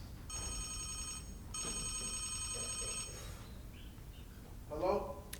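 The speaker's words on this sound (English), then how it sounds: "His phone rings." Telephone bell ringing in two long electronic bursts, then a voice briefly speaking in the room at a stage show.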